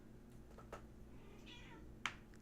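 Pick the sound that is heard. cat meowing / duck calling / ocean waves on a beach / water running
cat meowing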